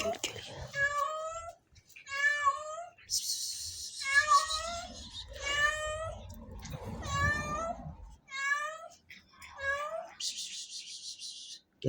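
A cat in a garden meows repeatedly, about eight drawn-out, rising and falling calls in close succession with brief pauses between, near and fairly loud, with faint rustling and a couple of short hissy bursts.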